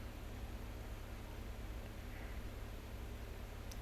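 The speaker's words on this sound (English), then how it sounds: "excuse the noise, there's a fan going on in my background" An electric fan running in a room, a faint, steady broadband whoosh with a low hum underneath and no talking.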